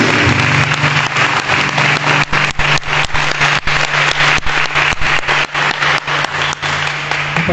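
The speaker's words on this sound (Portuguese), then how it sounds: "Palmas para o Espírito Santo." A church congregation claps in a steady rhythm of sharp, loud claps that go on without a break, with a low hum running beneath.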